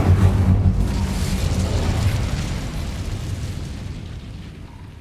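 An Incendio fire spell is cast in a video game, bursting out in one loud whooshing blast and then roaring down into a fading rumble over a few seconds.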